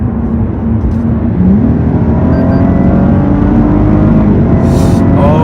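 A Cadillac ATS-V engine roars steadily and loudly from inside the cabin, the revs climbing as it accelerates hard, with road noise throughout.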